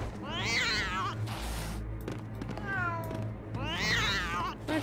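A cat meows repeatedly in a Lego Harry Potter video game, with several drawn-out, wavering cries in two main bursts and a softer one between, loud and close over low game background sound.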